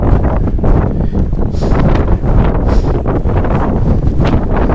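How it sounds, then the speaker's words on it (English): Strong wind buffets the microphone in a continuous roaring rush, loud and steady throughout with no voices, at a campsite in wind, rain and fog. "That wind's picking up."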